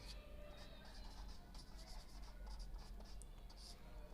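Chalk or marker scratches out numbers on a board during a number system lecture, a steady run of short scraping strokes close by, with a teacher's voice talking over them in a quiet room.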